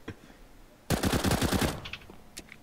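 Fast string of CZ pistol shots in a video game, a single loud rapid volley of about a dozen sharp cracks emptying one magazine, followed by a few faint scattered clicks.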